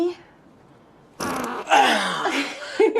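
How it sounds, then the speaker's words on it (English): A fart comes as a sudden loud, raspy blast after a near-silent pause and runs for a couple of seconds, with a voice and what may be laughter mixed in. "a girl accidentally breaks wind, prompting the dude to diffuse the tension by repeating the act"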